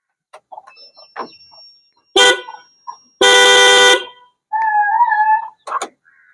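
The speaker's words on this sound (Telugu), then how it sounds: "ఈ రెండు హార్న్లు డిఫరెంట్గా వస్తాయి చూడండి." Two different horns on a Tata Magic, one a conch-type: a short blast, then a longer loud blare, then a distinct two-tone honk, each sounded alone and close in a quiet setting.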